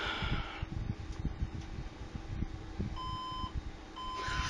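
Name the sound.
computer motherboard error beeps at startup, three beeps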